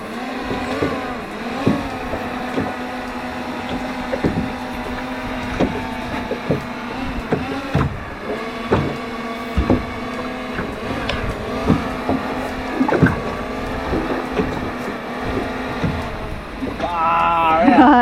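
A motorboat engine drones steadily and close, with scattered knocks and thumps and a rising surge at the very end.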